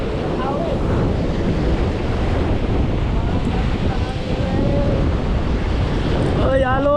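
Ocean surf rolls at a surf spot under gusts of wind buffeting the microphone, a loud continuous wash near the water, with brief voices calling out.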